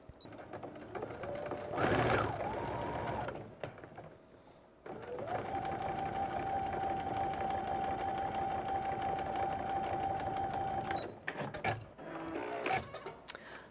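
Sewing machine stitching quilt binding, a close, steady motor whir with rapid needle clatter running for several seconds, preceded and followed by brief handling noises.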